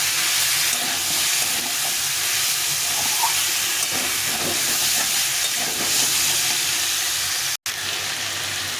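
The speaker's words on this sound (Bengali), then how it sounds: "এই ছোলাটা দিয়ে একটু কষিয়ে নিতে হবে, একসঙ্গে করে সুন্দরভাবে কষিয়ে নিতে হবে।" Chickpeas, cauliflower, peas and spices sautéing in a pan, giving a steady, close sizzle and hiss throughout with a brief cutout near the end; no one talks.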